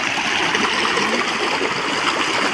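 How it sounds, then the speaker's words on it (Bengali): A fast-flowing village river current rushes in a steady, loud, broadband wash of water. It carries on unbroken and close throughout, with no voices. "তো দেখো জলের মধ্যে খুব টান আছে।"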